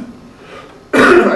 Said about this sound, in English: here comes my cough again